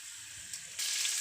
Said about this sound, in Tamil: எடுத்து வச்சுருக்கிற வெங்காயம், தக்காளி எல்லாத்தையும் போட்டு நல்லா வதங்கிடணும்.